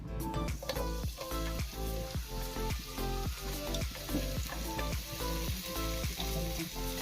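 Thinly sliced onions frying in ghee and coconut oil for egg biryani garnish, a steady close sizzle with light crackling and a soft, regular scraping rhythm, as if stirred, running throughout without speech.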